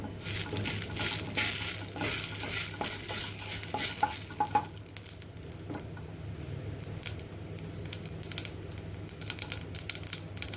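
Cumin seeds crackle and sizzle in hot oil, popping densely at first and then settling into a lighter, steady fizz.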